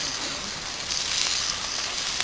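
Beef stew sizzles in a solid frying pan over a campfire of big logs, a steady close hiss with faint crackles and no voices.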